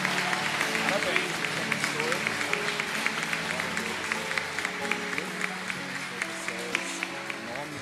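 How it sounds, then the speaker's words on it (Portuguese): A church congregation at a Sunday service applauds steadily for several seconds, the clapping moderately loud and sustained, with speech and some music running underneath. "Você pode aplaudir a Jesus?"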